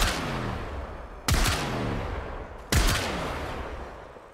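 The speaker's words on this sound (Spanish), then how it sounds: "Disparando los mismos bosses" Heavy gunfire from the game Warframe: three loud, sharp blasts spaced about a second and a half apart, each followed by a long ringing, echoing decay.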